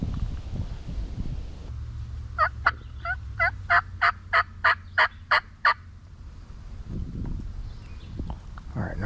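A wild turkey gobbler in a rainy field calls with a rapid run of about a dozen sharp, evenly spaced notes that rise loud and clear. Low rustling and soft movement sounds come before and after.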